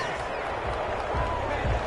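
Constant crowd roar from a stadium in a PS4 football video game with the Saints playing on offense, steady and fairly loud throughout, with no clear pauses.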